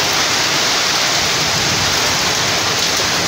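Hail pours down hard in a sudden Kalbaishakhi storm, a thick, constant hiss of stones and rain striking surfaces nearby at full intensity from start to finish.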